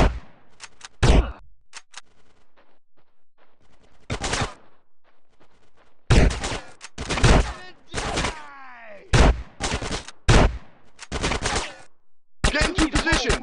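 Gunfire in GTA San Andreas during a police shootout, heard as loud bursts of rapid automatic fire alternating with single shots and short pauses, with voiced game dialogue mixed in.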